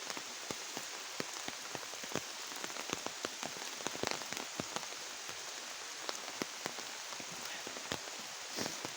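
Steady rain falls outdoors, a dense patter of drops on surfaces with sharper individual splats scattered throughout, fairly close and continuous with no voices.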